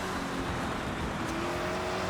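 Race cars in Forza Horizon, including a Mitsubishi Pajero Pro and an Opel, drone with a steady engine note and faint rival cars around it, loud and continuous, with no voices.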